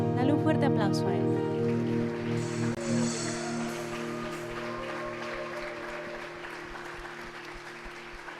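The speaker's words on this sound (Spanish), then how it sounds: "Dale un fuerte aplauso a Él." A church congregation applauds at the close of a Spanish-language evening service, a steady loud wash of clapping under sustained organ or keyboard tones, with voices mixed in throughout.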